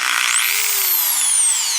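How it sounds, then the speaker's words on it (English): A power drill spins up and bores a drain hose hole in a used dishwasher, its motor whining steadily and rising then slowly falling in pitch over a short, loud, close burst with no talk. "drill a new drain hose hole up towards the top"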